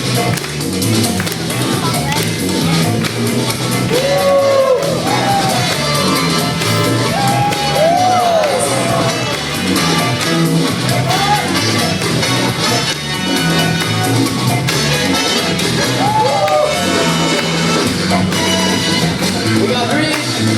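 A small crowd at a Beyblade battle shouts, whoops and yells throughout, with repeated rising calls over a busy, loud background of voices and clatter.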